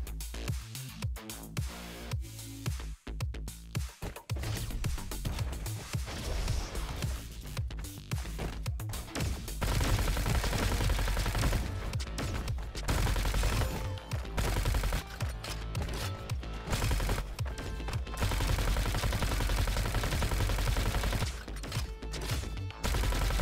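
Shotgun blasts and other gunfire in the robot shooter game Roboquest, dense and continuous, sounding close and loud alongside a thick game soundtrack, with no speech.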